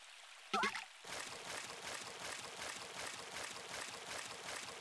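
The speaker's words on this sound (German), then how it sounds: "Oh nein, es regnet!" Rain in the video game Story of Seasons: A Wonderful Life begins after a short chime-like cue, settling into a steady, moderately loud hiss of falling water that continues to the end.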